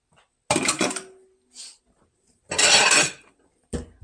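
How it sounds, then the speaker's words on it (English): Salmon dropped back into a frying pan while scrambled eggs are being cooked, giving two loud bursts of clattering and scraping, a soft knock between them and a short clink at the end, with no talking. "I'm going to take my salmon, put it back in the pan"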